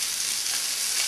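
Steady, loud sizzling of shrimp stir-frying in a hot pan at medium-high heat, a continuous crackling hiss with no pauses and no talking.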